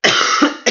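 Two sharp coughs sound close up, a long harsh one followed by a brief second cough.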